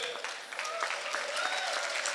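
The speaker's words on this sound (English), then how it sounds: "Can we give them a clap?" Audience applause for a band from a psychiatric hospital's mental health care users at a World Mental Health Day event, a steady patter of many hands clapping at moderate volume with faint voices mixed in.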